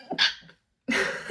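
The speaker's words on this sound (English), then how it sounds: "I have to sneeze" A single person sneezes, a short sharp burst with a quick breath before it, followed by a pause and then a breathy exhale.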